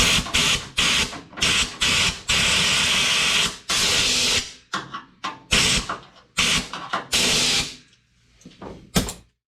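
Compressed air blasts dust out of a K5 Blazer body during restoration work, coming in repeated loud hissing bursts of varying length with short pauses between them.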